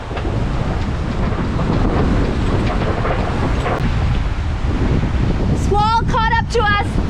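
A strong squall roars across a sailboat at sea, a steady, loud wash of wind buffeting the microphone with surf noise underneath, and a voice breaks in near the end.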